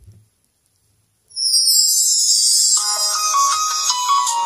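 Built-in Blackview ringtone melody playing from a Blackview E7 smartphone speaker: after a brief silence a loud, bright synthesized tone swells in and a chiming electronic tune carries on steadily to the end.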